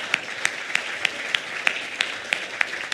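A church congregation claps for first-time visitors at a livestreamed service, a sparse and fairly faint pattern of separate claps at an even, regular spacing for three seconds.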